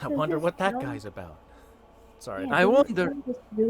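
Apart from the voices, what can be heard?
No everyday noises stand out.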